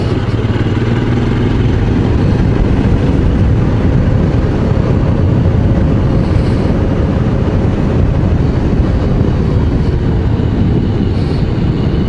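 A Royal Enfield Scram 411 motorcycle engine runs steadily while climbing a hill road, a continuous loud low rumble with wind noise, held gently rather than revved, with no voices over it.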